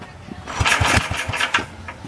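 A 1947 Gravely tractor engine with a frayed fan belt cranks and sputters in uneven bursts, trying to catch without settling into a steady run, close and fairly loud.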